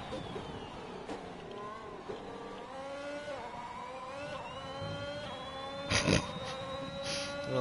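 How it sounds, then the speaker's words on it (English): A racing car engine in the video game F1 2021 whines at a high, steady pitch like a Formula E car, shifting up and down through gears, with a couple of brief bursts near the end. "so now the car sounds like a Formula E car"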